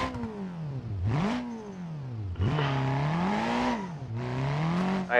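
A BeamNG.drive car engine revs up and down repeatedly, rising whines through the gears with short drops between, loud and synthetic-sounding.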